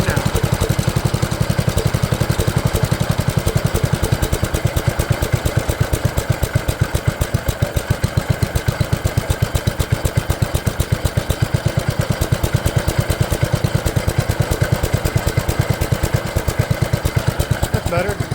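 A 1972 Gravely Commercial 12 garden tractor, a barn find that sat for years, idles fast with a loud, steady, rapid putter throughout, close up and unbroken.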